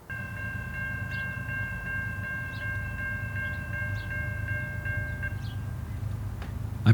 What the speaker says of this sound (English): Now, there are 4 locomotives in the consist. However, I don't really think they're all pulling.